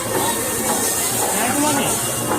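Chicken and egg mixed chow mein frying at a village fair food stall: a loud, steady sizzling hiss of the hot pan, with a voice talking in the background.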